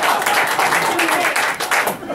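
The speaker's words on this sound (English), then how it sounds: "Give us a round of applause" Audience applause and clapping for a Christian improv comedy duo on stage, a dense, steady burst of many hands lasting a couple of seconds, loud and close throughout.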